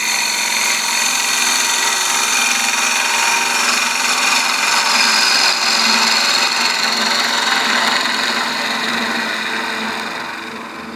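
A wooden block being trued up on a wood lathe before drilling with a Forstner bit, giving a steady, loud whirring and scraping cut that holds for about ten seconds and then eases off at the end.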